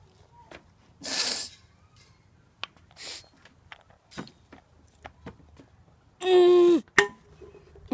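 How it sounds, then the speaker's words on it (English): A person sneezes out Dr Pepper: a sharp nasal burst after scattered sniffs and snorts, then a loud strained vocal push ending in an abrupt sneeze-like blast near the end, close to the microphone. "I'm going to be sneezing out Dr. Pepper."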